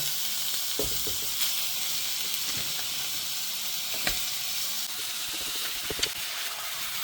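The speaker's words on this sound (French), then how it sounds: "Bon, les oignons sont assez cuits, on va rajouter la viande hachée" Onions frying in a pan give a bright, steady hiss and sizzle, with scattered soft scrapes and clicks of stirring, heard close and unbroken by talk, as minced meat is about to go in.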